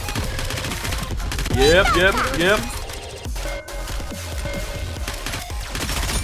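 Gunfire in the video game Nikke crackles as a rapid fusillade under game music and effects, with someone talking briefly over the shooting.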